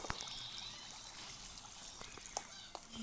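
Faint, steady rushing and trickling of flowing water in the Minecraft video game, a soft continuous wash with a few small clicks and taps scattered through it.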